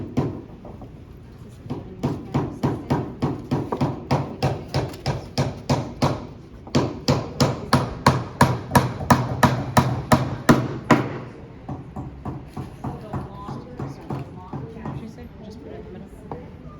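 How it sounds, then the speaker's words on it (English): Repeated hammer blows drive a part into place, a steady rhythm of sharp, close strikes in two long runs, then lighter, quicker taps toward the end. "let's hammer this part in that way."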